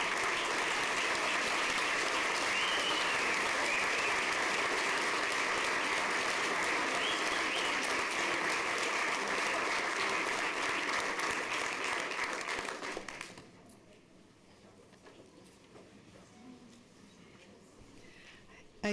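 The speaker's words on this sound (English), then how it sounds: "if we're not standing up and applauding for these schools, we are ashamed" At a school district governing board meeting, the room breaks into loud, dense applause for about thirteen seconds, then it cuts off sharply, leaving only quiet room sound with faint murmurs afterward.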